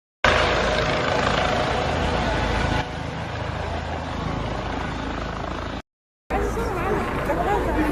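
A helicopter hovers over an attack scene in Amsterdam, its constant broadband rotor roar loud and close, with faint crowd noise underneath and a brief cut near the end.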